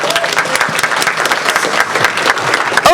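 A classroom audience at a digital learning games presentation claps in a lively round of applause. Individual claps are distinct and close, the sound stays steady and loud, and some faint voices mix in.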